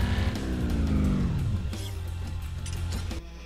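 Car in Need for Speed: Undercover on the Wii accelerating under nitrous boost, a loud engine roar sweeping down in pitch with rushing tire and wind noise before settling into a steadier drone.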